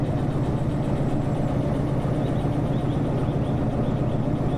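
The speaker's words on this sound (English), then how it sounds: "I like how you can really listen to the engine. You can tell how hard it's working." A train locomotive engine working hard in the Derail Valley simulator, a steady loud low rumbling drone with a dense mechanical texture, continuous and unchanging with no talk.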